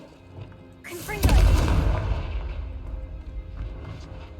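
Confringo explosion spell in Hogwarts Legacy: a single booming blast that bursts suddenly, then a deep rumbling tail slowly fading over a few seconds.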